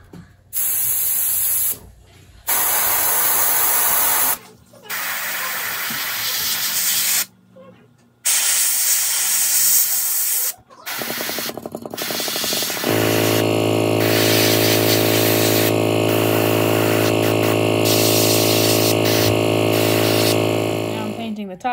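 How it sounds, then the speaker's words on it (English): Spray paint hissing onto a handmade sea turtle fishing lure as a base coat goes on, loud continuous bursts broken by short pauses and then one long sustained spray. "here I'm going to spray in that color."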